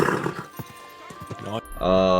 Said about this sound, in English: Move aside, horse!